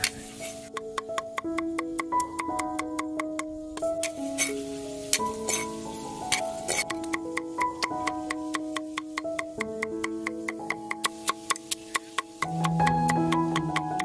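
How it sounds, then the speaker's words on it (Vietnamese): Shallots, ginger, chili and garlic are chopped with a knife, giving crisp, rhythmic strokes that speed into a quick burst near the end, all under melodic background music. "Bây giờ mình sẽ băm hết cái nguyên liệu phụ này trước"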